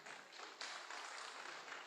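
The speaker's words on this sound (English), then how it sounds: "A round of applause for the guest lecturer." Applause for a guest lecturer at an annual distinguished lecture event, a steady wash of many hands clapping, faint and distant-sounding, swelling slightly midway.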